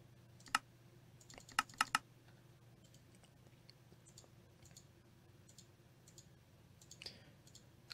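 A computer mouse clicks close up and quietly, with a few sharp clicks including a quick double pair, then softer scattered taps over a low steady hum.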